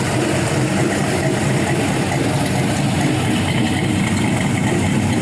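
A big-cam 5.3L LS V8 engine with new head gaskets and oil pump idles steadily, a loud, close, continuous rumble with an even lopey throb and no other sounds.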